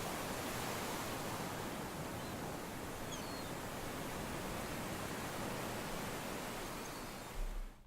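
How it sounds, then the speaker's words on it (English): A beach ambience sound effect gives a faint, steady wash of surf, with a few very soft seagull calls drifting in around the middle before it ends abruptly. "this is the sound of some seagulls plus the sound of the beach"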